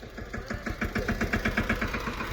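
A tractor engine idles nearby while being hitched to a trolley, thumping out a quick, even chugging pulse with a slight knock, steady and moderately loud.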